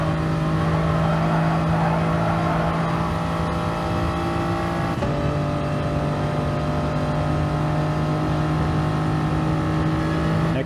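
A Gr. 3 race car at full throttle in Gran Turismo Sport at Autodrome Lago Maggiore, a loud sustained engine drone with a strong steady pitch that briefly dips and shifts as a gear changes midway.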